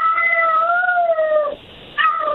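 A person imitates a cat's meow on a morning radio show, a long wavering meow followed after a short pause by a second brief one, clear and close with no other talk.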